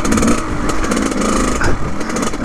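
A Kawasaki KX100 dirt bike engine bogs while riding around a tree, giving a loud, close, rough and uneven rasping engine note that never climbs into a clean rev.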